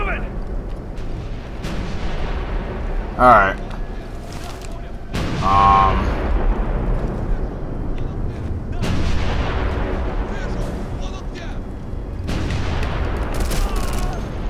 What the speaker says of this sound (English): Damn, our artillery's loud as balls, man.